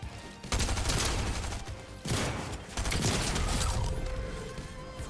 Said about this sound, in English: This guy's about to shoot me with his sticky launcher